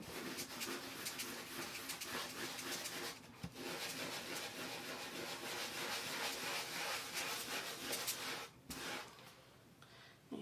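A Cricut cutting mat is scrubbed in firm circular motions, a continuous close rubbing and scraping that pauses briefly twice.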